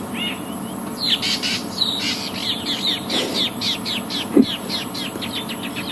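Repeated short chirping calls from a juvenile bird during an African safari sunset drive, coming in quick sequences over a low rumble of background noise, with a few louder notes standing out.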